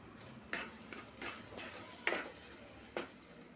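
A spoon stirs a thick carrot barfi mixture with sugar in a pan, giving soft scraping strokes and several sharp clinks against the metal at an unsteady pace, faint and close.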